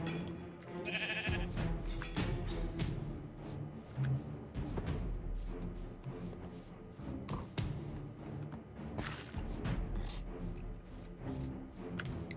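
Sheep bleating in the Minecraft video game, several short bleats scattered through a busy stretch of game sound with thumps and taps, mid-loud, with some voice present in the background.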